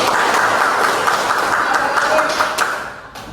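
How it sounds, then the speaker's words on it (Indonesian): A classroom audience applauds group 4 during a problem-based learning lesson: steady, dense clapping that fills the clip at close range, with voices mixed in and a slight fade near the end. "Kelompok 4 kasih aplaus."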